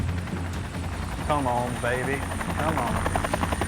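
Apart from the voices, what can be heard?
Bell UH-1 Huey helicopter flying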